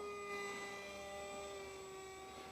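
An RC F22 jet with a 2700 Kv motor at about 40% throttle gives a steady, high-pitched electric whine with strong tonal harmonics, fairly faint and unbroken for a couple of seconds with no talk.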